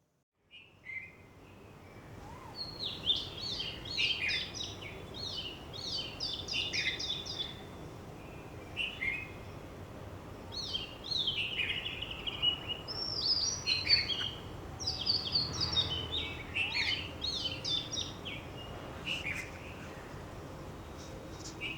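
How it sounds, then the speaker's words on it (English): Two birds calling in the early morning in Manikonda, repeated chirps and whistled phrases at moderate distance over a low, steady outdoor background hum. "So right now it's only the two birds that we can hear."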